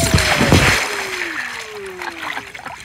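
A splash into a pool at the bottom of a water slide, a loud burst of rushing water up front that fades into softer sloshing and dripping.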